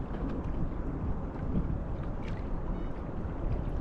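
A steady low churning hum of an electric trolling motor at 40% throttle pushing a small boat through water, with wind buffeting the microphone throughout.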